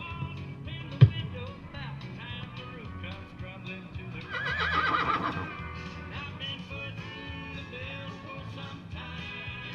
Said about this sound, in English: So Sterling rides in on the good bay horse right here,